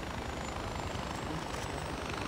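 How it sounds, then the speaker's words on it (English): Helicopter in the video game Far Cry 4, a steady whirring rotor and engine drone, fairly faint and continuous with no speech. "I'll shoot this helicopter! The helicopter's coming down!"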